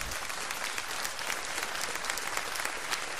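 Audience applause for a funk band on a live talk show, a dense, even wash of clapping at moderate level, sustained without pause or talk.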